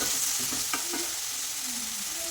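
Broccoli stir fry cooking in a pan with tomato, a dense steady sizzle filling the background with a couple of faint stirring knocks, close and without talk.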